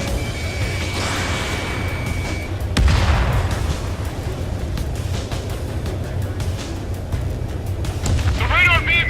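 Explosions and gunfire from the Ace Combat 7 air-combat video game boom in a dense, continuous barrage, with a sharp blast near the three-second mark and radio chatter running underneath.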